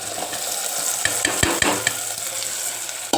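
Spiny gourd (kantola) added to an onion-tomato tempering and frying in a pan, with a steady sizzle broken by several sharp scrapes and clinks of a spoon stirring close up, no voices.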